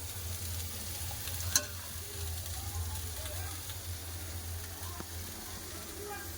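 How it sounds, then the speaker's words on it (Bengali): Cauliflower pieces frying in oil in a pan, a steady low sizzle with a constant low hum beneath and one sharp clink of a utensil partway through. "দিয়ে দিলাম কফি কফিটা একটা খুব ভালো করে একটা লাল লাল করে ভেজে নেব"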